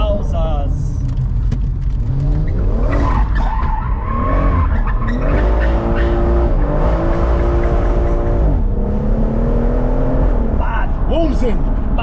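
A new car is driven hard, its engine revving loudly in rising and falling sweeps with tire skids and squeals, close and continuous, while people talk excitedly over it.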